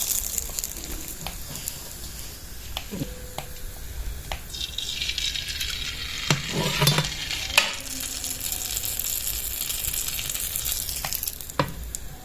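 Sweet pua pitha cakes sizzle in hot oil with a steady, close frying crackle, broken by occasional clinks and scrapes of stirring.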